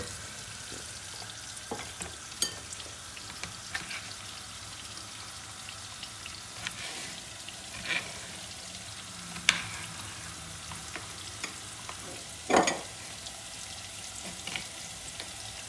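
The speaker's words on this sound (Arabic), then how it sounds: "حرك البصلة" Onion frying in a pan while being stirred, a soft continuous sizzle with occasional louder clicks and utensil knocks against the pan, heard alone without voices.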